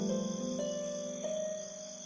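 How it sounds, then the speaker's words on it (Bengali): Crickets chirp beside a dark road at night, a thin, steady trill that is fairly faint and alone, fading slightly toward the end. "অন্ধকার রাস্তায় ঝিঝি পোকার ডাক"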